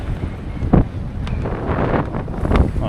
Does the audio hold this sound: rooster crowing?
no